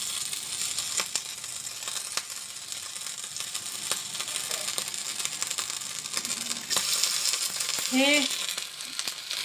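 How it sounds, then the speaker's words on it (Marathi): Dabeli set on a hot tawa fries with a steady, fine sizzling hiss throughout, broken by faint scraping and tapping of utensils; a voice speaks briefly over it. "मग हे तव्यावर भाजायचे. हे याच्यावर ठेवायचे, एका बाजूने पहिले भाजून घ्यायचे."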